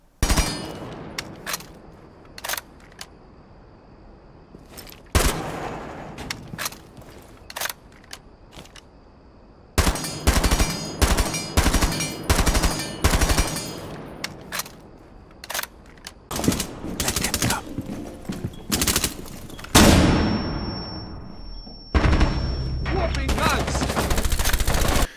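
Kapkan's gun fires in Rainbow Six Siege in sharp single shots and quick multi-round bursts, loud and close, broken by short pauses, with a tone sounding briefly near the end.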